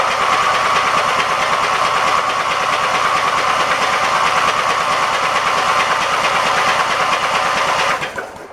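An engine with its spark plugs removed cranks over steadily for about eight seconds, a loud, fast, even churning with a rapid rhythmic pulse, then cuts off abruptly.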